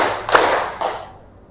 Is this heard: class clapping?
yes